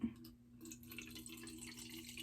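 Apple cider vinegar is poured into a clear bottle, a short, faint trickling and splashing of liquid heard close up in a quiet room.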